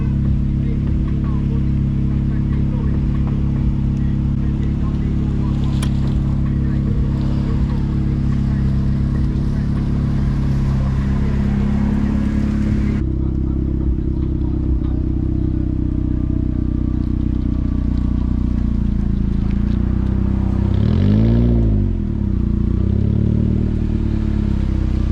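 A turbocharged Mazda Miata with an ISR exhaust drives along, its engine droning steadily and loudly throughout, with a brief rev swell near the end.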